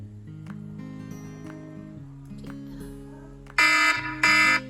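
An alarm ringtone played in a guess-the-ringtone game: a melodic electronic tone sequence building into two loud, harsh buzzing alarm bursts near the end.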